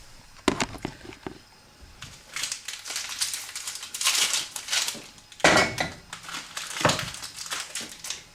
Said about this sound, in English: And I'm going to get my Mars bars, unwrap them.